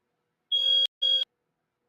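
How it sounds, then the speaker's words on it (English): Two sharp, shrill electronic fire alarm beeps in quick succession, loud and close, followed by silence. "Apologies for the fire alarm there, guys."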